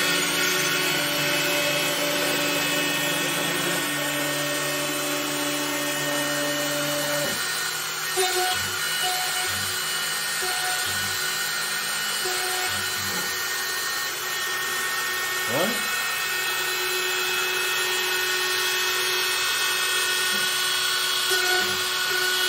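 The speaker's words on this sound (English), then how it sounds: "let's fire up the router and hit start job" A CNC router cuts a wooden Strat-style guitar body with a steady high spindle whine. The pitch shifts in steps as the bit moves through the wood, with a few scraping, rubbing bursts along the way.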